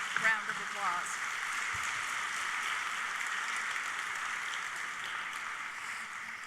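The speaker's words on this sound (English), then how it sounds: "So please, let's give them a wonderful round of applause." An audience at a benefit dinner applauds in a large hall, a sustained, even patter of many hands clapping, with faint voices briefly at the start.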